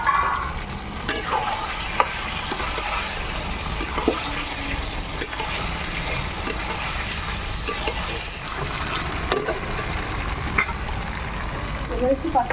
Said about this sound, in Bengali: এবার আমাদের টমেটো দেওয়া হচ্ছে।